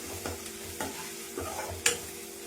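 Pieces of boiled goat tripe fry in a hot pan, Telangana village style, with a steady sizzle broken by several scraping stirs of a spoon against the pan, close and fairly quiet, no voices.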